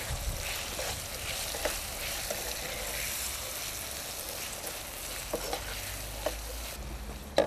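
Potatoes dusted with garam masala sizzle in a pan as they are stirred, a broad continuous frying hiss with occasional scrapes and light clacks near the end.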